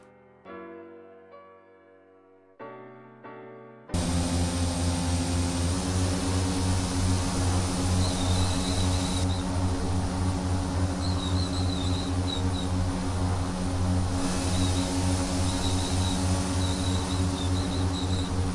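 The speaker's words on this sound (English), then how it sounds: "Is that the plane making that noise? Sounds like a bunch of mice." Simulated Boeing 787 airliner in X-Plane 11 gives a steady engine drone, overlaid with bursts of high, thin squeaking that chirps like a cluster of mice. Brief tonal game sounds precede it. The drone stays loud and even throughout, without speech.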